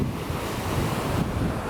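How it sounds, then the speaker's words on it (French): Ocean surf on a rugged Senegalese coastline rolls in as a steady, loud wash of broadband noise with buffeting wind against the microphone, unbroken throughout and with no voices. "la mer est trop belle de ce côté. Il y a des vagues de malades."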